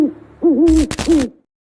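An owl gives two wavering, pitch-bending hoots, loud and close, split by a brief noisy burst before the call trails off into silence.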